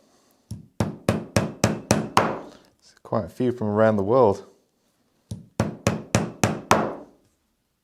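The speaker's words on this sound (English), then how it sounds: "I'm using a nylon hammer here" A nylon hammer strikes a leather trunk under construction, a run of six sharp, evenly spaced thuds, a short spoken phrase, then another run of five blows, close and loud.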